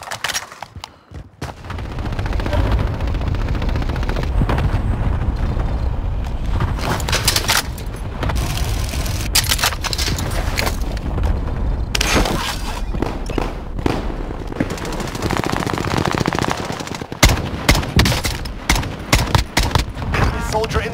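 Sustained gunfire in a Call of Duty: Warzone Plunder match, dense overlapping shots and bursts running almost continuously at high level, with sharp louder cracks near the end and some speech-like noise mixed in.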